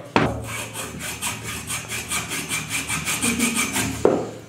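A bread knife saws back and forth through a hard coconut shell, a steady rasping rhythm of about a dozen close, loud strokes of wood-like scraping, with a sharp knock near the end.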